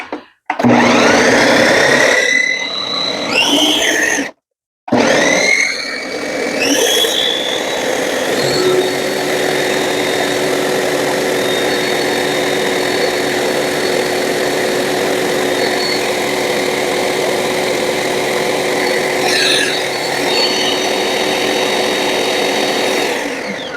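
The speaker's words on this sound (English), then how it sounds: "when you're using a food processor" Food processor blending hummus, a loud motor whir that starts in short pulses, stops, then runs continuously for a long stretch with a steady droning pitch and churning rattle.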